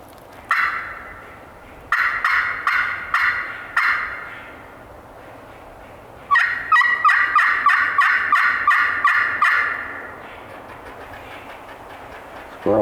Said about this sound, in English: if it is a gobbler, hopefully get him to gobble again